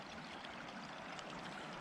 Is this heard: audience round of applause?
no